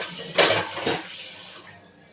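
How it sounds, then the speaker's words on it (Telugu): Water pours into a mixer jar holding leftover spice paste for a biryani gravy, a short splashing burst with a second smaller gush, close and fairly quiet, fading out with no talking. "దాంట్లోకే వాటర్ అనేది యాడ్ చేసుకొని నేను వాటర్ యాడ్ చేస్తున్నాను అంతే."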